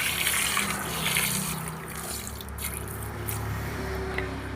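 Water is poured over sugar in a pot to make syrup for boondi laddu sweets, a steady close trickling and splashing stream that softens slightly toward the end.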